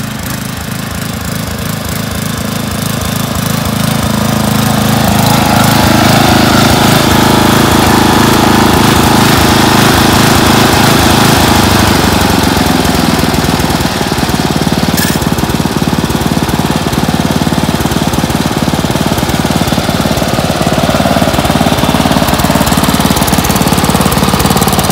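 A 1989 Dynamark 11/36 lawn tractor runs and mows: loud, continuous engine drone with rough, rattling vibration, steadying into a dense roar as the blades cut, up close with no talk.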